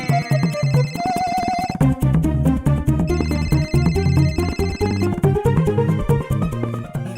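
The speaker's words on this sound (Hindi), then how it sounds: "मेरा फोन यहीं कहीं बज रहा है।" A mobile phone ringtone plays loudly and continuously, a bright electronic melody with repeating chiming phrases and a steady beat, close and with no talking over it.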